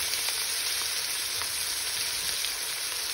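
Sliced onions sizzle steadily in hot oil with garlic ginger paste for chicken biryani, a soft, even crackle with no voices over it.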